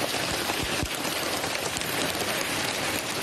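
Hail and rain battering Crete, Greece, during a spell of bad weather: a steady, dense hiss of falling precipitation with scattered louder impacts, continuous and close throughout.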